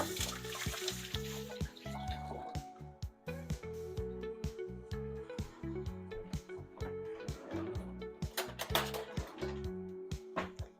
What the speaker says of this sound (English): Just gonna rinse my hands.